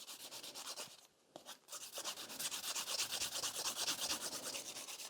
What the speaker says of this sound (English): you just keep filing into the shape of the nail